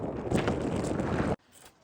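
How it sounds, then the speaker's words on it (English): A brief loud gust of wind blasts across the microphone on the Appalachian Trail at Mahoosuc Notch, rushing and buffeting, then cuts off abruptly to near quiet. "It's windy."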